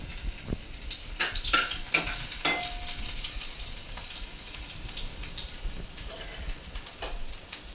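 Mustard seeds and cumin frying in hot oil with garlic cloves for stuffed chilli fry, a steady close sizzle with scattered popping crackles and occasional spoon scrapes throughout, no voices.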